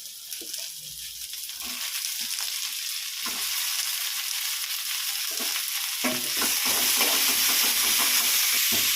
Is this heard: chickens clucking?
no